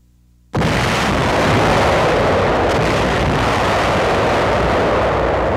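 Naval warship artillery bombarding the Kamaishi steel works in 1945 begins abruptly, then holds as a loud, continuous roaring rumble with dense broadband blast noise and no voices.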